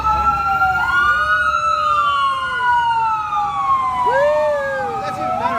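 A loud, close ambulance siren wails on a Vancouver street during a protest, its sweeping tones overlapping and rising as it passes, with traffic rumbling underneath.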